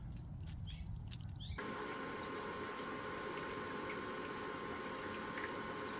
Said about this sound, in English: you need to open up the drain plug and drain the water out